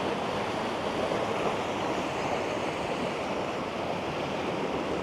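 Steady roar of a waterfall on a private property, a dense even rush of falling water heard alone at a moderate distance without pauses or voices.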